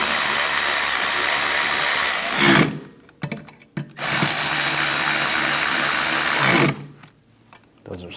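A power tool runs in close, steady bursts while tightening bolts on a 2007-2014 Cadillac Escalade ESV air suspension compressor: two long whirring runs bracketing a few short pulses, with no talk.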